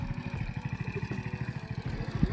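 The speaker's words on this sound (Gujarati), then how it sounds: "બારો બાઇક ઉપર લઈ જાય પપ્પા ઘેર અને મમ્મી પાછળ આવે છે" A motorcycle engine runs steadily and close, a rhythmic pulsing putter with mechanical clatter, on a rural farm trip carrying a load home.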